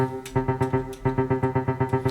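A distorted hardstyle kick drum pounds in quick triplet groupings, giving a galloping, evenly repeating rhythm with nothing else playing.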